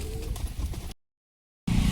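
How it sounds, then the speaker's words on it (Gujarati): Pigeons gathering to peck at scattered grain in a village, with soft cooing and faint fluttering close by, broken by a brief silent gap before the outdoor noise resumes; no one speaks. "કબૂતર આવી ગયા છે દાણા ખાવા માટે"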